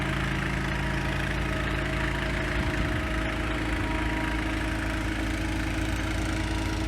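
A Miller sprayer's engine runs at a steady, continuous drone while applying pre-emerge fertilizer in a field, with no talk over it.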